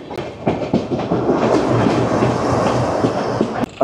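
A Bengaluru-bound Amrit Bharat Express runs on rails from Malda at night as the SMVT Bengaluru–Agartala Humsafar overtakes it, giving a loud, continuous close-up rumble with rhythmic clickety-clack wheel beats and no talk.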